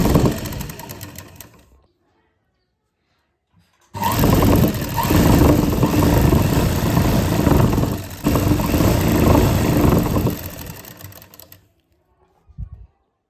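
A sewing machine stitches a shirt hem in two long runs of loud, rapid, steady whirring, split by a pause of near silence and ending with a brief clack.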